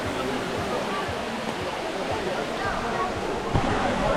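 A waterfall roars in a steady, close, full-bodied rush of falling water throughout, with faint splashes and a small knock near the end.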